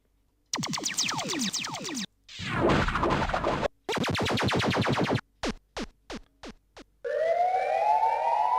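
Police siren sound sample from a Lick Shot pack for dub drum and bass, a chopped sequence of wailing sweeps, yelps and short whoops separated by brief gaps, close and clean, no voices.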